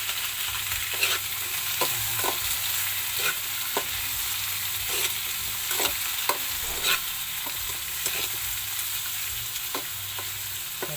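Tomatoes fry in a pan under a steady, close sizzle, punctuated by repeated sharp scrapes and clicks from stirring.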